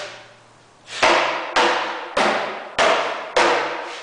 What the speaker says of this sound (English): it's purely an hammer and two glass fibre composite litter bins